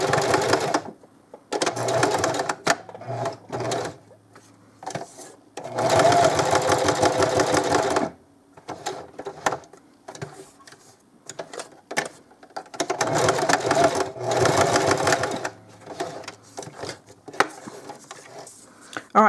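Sewing machine stitching denim for a zipper bracelet, running in several loud bursts of rapid needle chatter separated by short pauses, with no talking.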